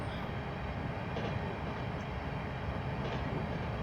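A Sacramento Northern SN 1003 interurban electric train in a train simulator game picking up speed, a steady close rumble of rolling wheels and motor hum with faint rail clicks and no voices.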